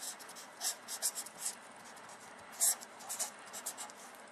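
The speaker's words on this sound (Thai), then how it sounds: "เดี๋ยวเขียนใหม่ดีกว่าที่ไม่พอ" A pen scratches across paper while a math problem is worked out by hand. It makes quick, close, rhythmic strokes with a brief louder scrawl partway through, over a soft hiss and quiet talk.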